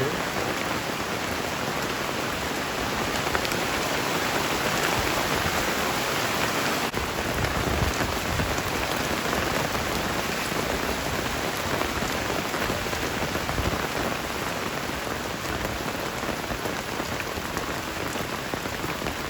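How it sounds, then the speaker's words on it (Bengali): Heavy rain pouring down on surfaces outdoors, a loud, dense, unbroken hiss of drops lasting throughout, with no voices and no distinct thunder. "বিশাল জোরে বৃষ্টি হচ্ছে"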